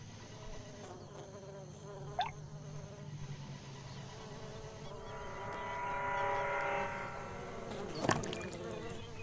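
A bee working a flower with a waxy slope and hidden scent oils gives off a faint, low buzz that swells in the middle, with a few sharp ticks and a brief louder whir near the end.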